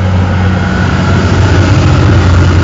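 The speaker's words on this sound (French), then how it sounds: "Non, en fait, c'est un tracteur." A tractor engine running steadily at Sainte-Austreberthe in Seine-Maritime, a loud, continuous low idling rumble with a constant drone and no break.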